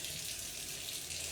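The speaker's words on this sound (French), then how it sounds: "Voilà l'eau qui coule." Tap water runs steadily from a kitchen faucet into the sink, a constant close hiss of flowing water with no voices.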